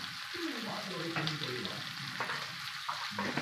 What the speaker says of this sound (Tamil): இப்போ நம்ம வெங்காயம் சேர்த்துக்கலாம். இல்லை இப்போ நல்லா வதங்கட்டும்